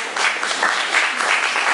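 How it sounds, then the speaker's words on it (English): An audience at an awards event gives a short burst of applause, steady and close, with no talk over it. "let's give a hand of applause to Alicia Faharna"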